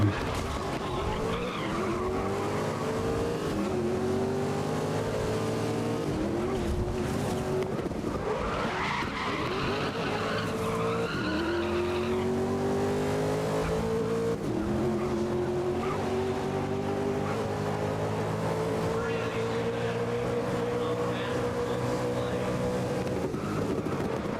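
A racing car in GRID (2019) skids under handbrake, tires squealing over a steady, loud engine drone whose pitch climbs and falls through gear changes across a continuous stretch of driving.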